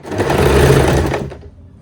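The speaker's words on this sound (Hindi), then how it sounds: "और यहाँ से सिलाई लगाना स्टार्ट करेंगे" A sewing machine runs steadily, stitching the belt seam of an Afghani salwar for under two seconds before slowing and stopping, loud and close with no talking.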